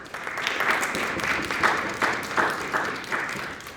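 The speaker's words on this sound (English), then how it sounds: "was worried Tim was the only one that was going to clap for me." An audience at a policy event applauds a speaker, steady crowd clapping with a few louder individual claps standing out.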